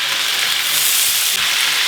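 Lemon juice hitting a hot pan of flambéed food with ouzo, a loud continuous sizzle and hiss up close with no voices.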